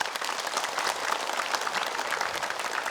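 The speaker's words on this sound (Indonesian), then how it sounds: "Yuk, boleh tepuk tangan untuk Ustadz Danu" A studio audience claps steadily for a religious teacher arriving on an Indonesian television show, a dense, even round of applause.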